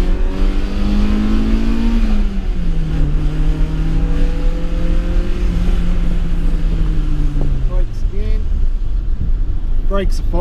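A 1987 BMW E30 M3 engine revs on a test drive, rising and falling in sweeping pitch with a steady in-car rumble, loud and close throughout.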